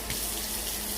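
Water runs steadily from a kitchen tap, a continuous broadband hiss and splash heard close and alone, with no breaks.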